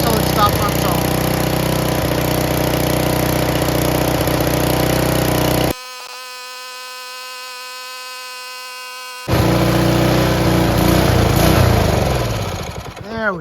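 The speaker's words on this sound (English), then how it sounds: "Just let it run until it stops on its own." A Briggs & Stratton Intek 6HP small engine runs until its fuel is gone, making a loud, steady mechanical drone. Its tone shifts during a middle stretch, and it starts to falter near the end.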